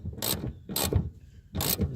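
A ratchet tightens a nut on a bolt under an old Holden VL Commodore, three separate close bursts of rapid clicking with short pauses between, no talk.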